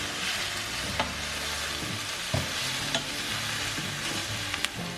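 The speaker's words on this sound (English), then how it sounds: "they're sweating very well in this pan" Vegetables sweating over medium-high heat in a pan give a steady soft sizzle, with a few sharp clicks and knocks of stirring scattered through it. There is no talking.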